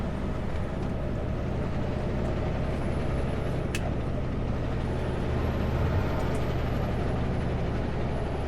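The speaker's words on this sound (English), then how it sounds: "The other truckers passing me." Heavy trucks passing on a highway between Osoyoos and Penticton, British Columbia, heard as a steady loud road roar from inside a moving truck cab, with a brief air-brake hiss in the middle.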